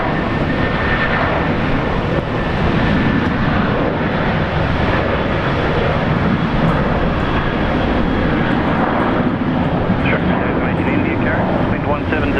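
A Qantas airliner landing on runway 19 left at Brisbane Airport, a loud continuous engine roar with wind buffeting on the microphone, heard at close range under a voice.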